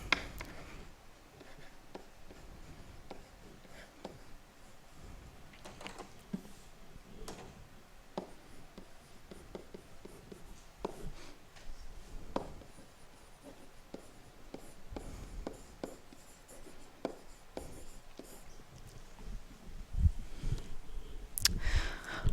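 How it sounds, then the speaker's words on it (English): Marker or chalk writing answers on a classroom board, faint scratching strokes and taps coming in irregular bursts, a little distant, with no talk. "I'll write the answers on the board"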